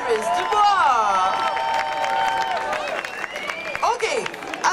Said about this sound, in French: Alors, on applaudit Elvis Dubois, mesdames et messieurs.